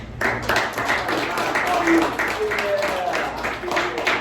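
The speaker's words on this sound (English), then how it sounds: "Give yourselves a round of applause for being my first." A small audience at a mental health talk claps for itself, scattered hands forming uneven applause with individual claps standing out, while voices and a low background hum run beneath it.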